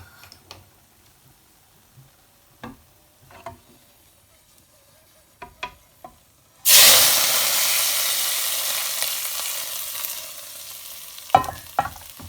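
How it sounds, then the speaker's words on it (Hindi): A few light clinks and taps, then a sudden loud sizzle as hot tempering hits urad lentil curry, hissing steadily and slowly fading. "ये मैंने इसमें तड़का लगा दिया है।"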